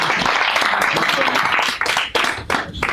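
Audience applause after a magic trick, a dense burst of clapping that stays loud for about three seconds, with talking mixed in and the clapping thinning slightly toward the end.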